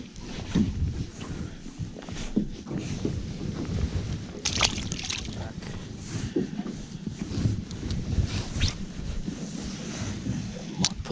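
Wind gusts buffet the microphone on open water during a solo boating trip in Gippsland, a steady low rumble with water lapping and occasional brighter bursts, no talking.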